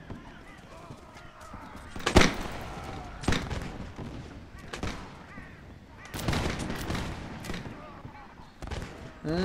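Cannon shots boom in Mount & Blade during a Napoleonic-era battle with cavalry nearby, with a few loud, separated reports rising out of scattered distant gunfire and battlefield noise.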